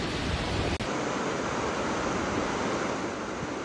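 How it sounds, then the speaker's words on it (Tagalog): Strong coastal wind and large waves batter the shore at Marihatag, Surigao del Sur, giving a loud, steady broadband roar of surf and gusting wind with no pause and no speech. "Kasabay nito ang malalaking alon sa baybayin."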